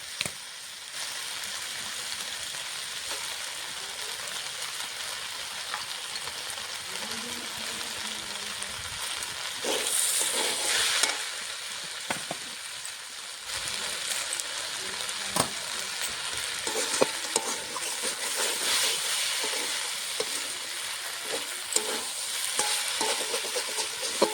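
Small fish frying in a pan for Bengali chorchori, a steady dense sizzle and hiss running throughout, with occasional stirring scrapes and clinks close by.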